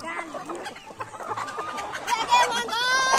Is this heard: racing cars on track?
no